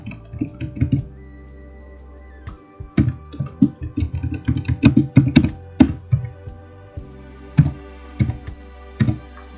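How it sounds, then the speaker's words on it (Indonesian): Someone types on a computer keyboard close by, with short bursts of sharp key clicks separated by brief pauses against a quiet background. "di sini saya akan ketikkan terlebih dahulu"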